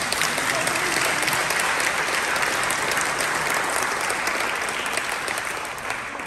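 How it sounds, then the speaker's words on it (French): A church congregation applauds a visiting former parish priest, steady dense clapping filling the whole stretch, loud and close, easing slightly near the end. "on peut l'applaudir encore"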